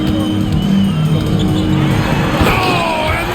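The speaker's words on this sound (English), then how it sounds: "this crowd is in awe of that Mitchell dunk" Arena crowd in the NBA 2K26 video game roars and cheers after a dunk, a steady dense wall of noise with a swell of whoops toward the end.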